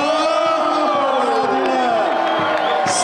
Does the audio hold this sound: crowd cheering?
yes